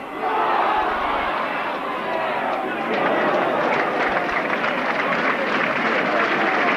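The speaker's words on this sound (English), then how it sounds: "getting some applause there for that run" A football crowd at Twerton Park, Bristol Rovers against Barnsley in 1992, applauds a player's run with a steady roar of clapping and cheering that swells midway and then holds, loud and distant-spread, under the general stadium noise.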